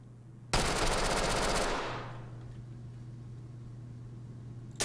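A burst of rapid automatic gunfire in a video game rattles loudly for about a second, then decays into a fading echo over a low steady hum, followed by a brief final crack.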